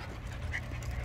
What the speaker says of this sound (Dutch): Waarom hijgt ze zo?